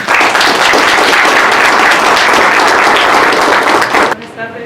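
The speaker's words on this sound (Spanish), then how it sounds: "Recibamos con un fuerte aplauso a la doctora Lisbeth Rodríguez." An audience breaks into loud, dense applause at an academic panel on education in the AI era, the clapping sustained for several seconds before it cuts off abruptly.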